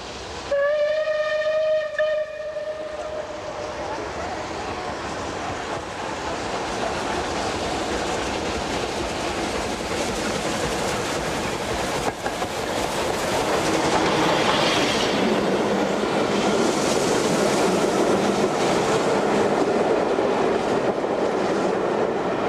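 Bulleid steam locomotive 34027 passes Mottisfont, opening with a short, bright whistle blast, then a long, loud rumble of wheels and carriages clattering over the rail joints, building as the train draws nearer.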